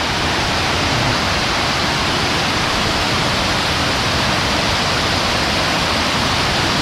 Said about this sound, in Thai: เป็นน้ำตกสีบัวใหญ่นะครับเป็นน้ำตกขนาดน้อยนะครับ